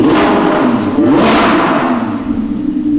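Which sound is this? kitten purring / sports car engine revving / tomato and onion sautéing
sports car engine revving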